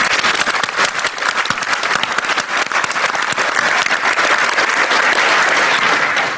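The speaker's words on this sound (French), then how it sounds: "j'aimerais qu'on les applaudisse, s'il vous plaît" An audience at a conference keynote opening applauds the sponsors, dense sustained clapping from a crowd filling the room steadily without a break.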